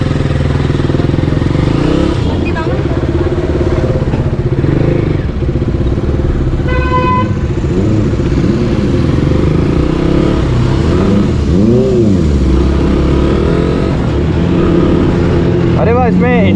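A KTM Duke 200 naked motorcycle ridden on the road, its single-cylinder engine humming and revving up and down with several rising pulls, close and loud, with talk and a brief horn-like tone over it.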